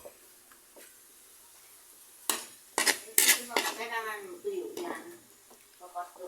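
A metal spoon stirs food in a cooking pot with a few soft taps, then louder scraping clanks against the pot and a faint sizzle, while a person talks over it.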